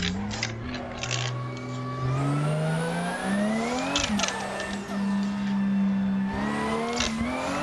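A Toyota Supra engine heard from inside the cabin, revving up and down in rising and falling sweeps with brief sharp bursts between them, loud and continuous with no talking.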